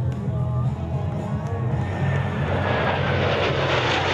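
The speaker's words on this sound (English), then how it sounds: "The Blue Angels headlined as they performed unimaginable maneuvers." Blue Angels military jets roar past while flying maneuvers at an air show. A loud engine rumble swells into a broad, rising jet wash, with faint crowd noise underneath.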